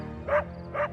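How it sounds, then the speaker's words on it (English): A dog gives two short, fairly faint barks over a steady low background hum. "And just like in his dream, Albert's dog won't stop barking."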